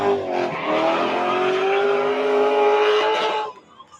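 A drift car at a ladies' drift competition slides through the course with continuous loud tire squeal over a high-revving engine, holding steady for several seconds before cutting off abruptly.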